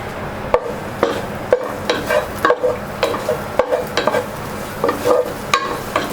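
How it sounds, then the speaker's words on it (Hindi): Garlic sautéing in oil in a pan, with a light sizzle under repeated rhythmic stirring and spatula scrapes, close and fairly loud, roughly two strokes a second. "हमें यहाँ पर इसको लहसुन को बिल्कुल जलाना नहीं है, सिर्फ 1 मिनट के लिए सौते करना है"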